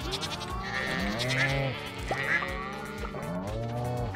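Several Stardew Valley farm goats give short repeated bleats, one after another at a steady pace, close and clear over looping game music, with no talking.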